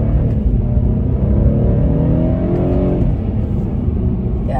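A BMW F30 engine revs while the car is driving, its tone climbing and falling again over a constant loud rumble heard from inside the cabin, with no talking.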